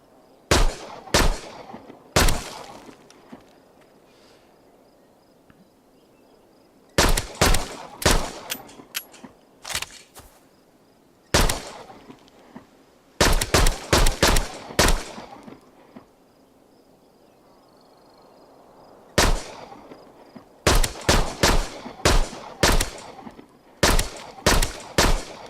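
Gunfire in the Arizona Sunshine VR zombie game comes in sharp, loud bursts of rapid shots separated by quiet stretches with a faint insect-like ambient hum.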